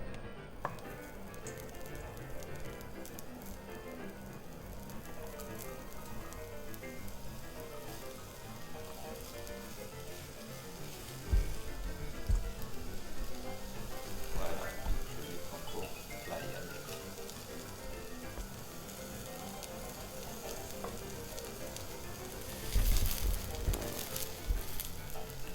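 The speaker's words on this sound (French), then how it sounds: "alors je vais les faire à la poêle. Mais tout doucement, sans ajouter de l'huile" Aubergines cook slowly in a dry frying pan without oil, producing a soft, rain-like hiss and crackle that runs throughout, with occasional louder clatters of the pan being handled.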